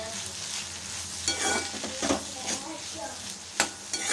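Chana dal stirred into onion and tomato frying in a pan, with a steady soft sizzle punctuated by scraping spoon strokes against the metal, close and fairly quiet.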